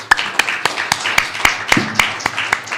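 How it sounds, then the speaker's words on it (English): Sparse claps ring out at an even pace, about ten single sharp hits rather than a full crowd's applause, for candidates at a city council candidate forum. "let's everybody give a round of applause to the candidates."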